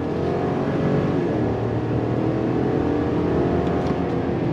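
A 2022 GMC Sierra Denali Ultimate pickup truck accelerating under throttle, its engine droning loud and steady throughout with a rising tone as it pulls, no talking over it.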